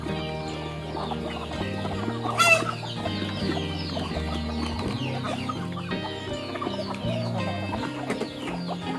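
Native Thai farm chickens kept as breeding hens cluck continuously nearby, a layered chorus of overlapping calls with one sharp squawk rising above the flock.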